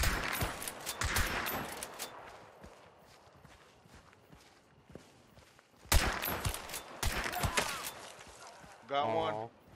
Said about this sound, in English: Yeah, let's shoot him.